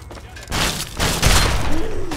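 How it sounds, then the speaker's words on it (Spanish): Shotgun blasts aimed at a mutant cockroach in Fallout 3 land as a quick run of heavy booming bursts, three or four close together over about two seconds, with a voice partly mixed in. "Dándole un escopetazo a la mutaracha."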